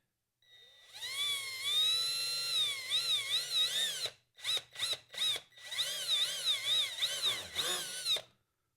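A drill fitted with a 3/32 bit bores into plastic on a Vanquish optic, producing a high whining motor pitch that rises and wavers, with several short stop-start bursts in the middle, close up and with no talking.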